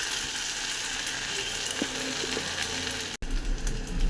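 Leftover rice crisps fry in hot oil in a karai, a dense, continuous close-up sizzle and crackle that stays loud throughout with a brief break near the end.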